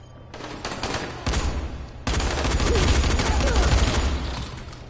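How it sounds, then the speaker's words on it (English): Panic shooting in the Dying Light video game: loud, rapid bursts of gunfire in quick succession, close and dense, with a short gap before a longer sustained volley. "Bit of panic shooting there."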